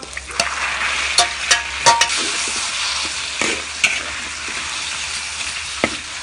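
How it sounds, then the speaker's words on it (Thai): Chopped garlic and pork stir-fried in hot oil, a constant loud sizzle punctuated by several sharp clacks and scrapes of a utensil against the pan. "ใส่น้ำมันแล้ว กระเทียมสับ หมูต่อเลยครับ"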